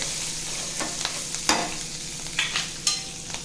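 Green chili paste sautés in a hot pan with a steady soft sizzle, broken by several sharp scraping strokes of a spoon stirring it, fairly close and with no voices.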